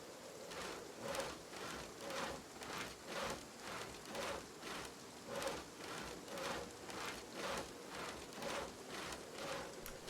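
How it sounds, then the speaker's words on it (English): Steady rain falls in a video game, a dense continuous patter with a soft rhythmic swell roughly every half second, fairly quiet and even, with no voices over it. "this is just rain"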